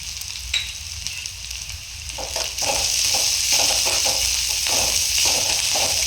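Onions frying in a pan until golden, with curry leaves and coriander, for a dried anchovy thokku: a steady broadband sizzle that grows louder partway through, punctuated by soft stirring scrapes, close and without voices.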